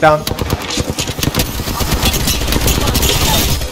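Gunfire in the video game Apex Legends: rapid, close automatic bursts that rattle almost without pause, mixed with engine-like game noise and some voice chatter.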